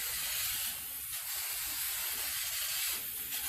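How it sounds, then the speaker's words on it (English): Brake caliper cleaner sprays from an aerosol can onto a Honda Accord brake caliper, a steady close hiss lasting a few seconds with brief dips in pressure. "now we're gonna use a little bit of brake cleaner or the caliper cleaner"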